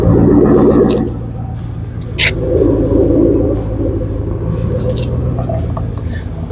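A 2001 Mercury Grand Marquis engine idling with a steady low rumble, close by and moderately loud, with some faint talking over it.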